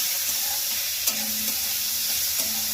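Boiled banana blossom is stirred in hot oil with a spatula, giving a bright constant sizzle over which a few distinct scrapes and clacks against the pan stand out.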